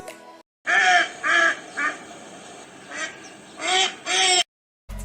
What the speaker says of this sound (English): Yes, it's a duck.